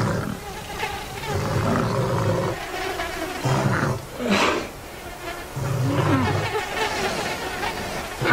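Flies and other insects buzz steadily around woolly mammoths in a warm, muddy valley, a dense droning hum with low rumbling animal sounds rising and falling beneath it.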